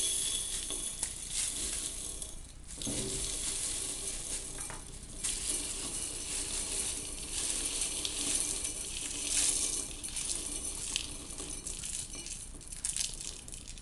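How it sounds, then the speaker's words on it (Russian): Silica gel beads poured into a jar, giving a continuous loud close hiss of granular rattling with a couple of short pauses and clinks. "Убираем силикагель, высыпаем его в банку."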